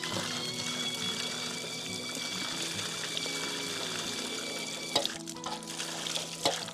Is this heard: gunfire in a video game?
no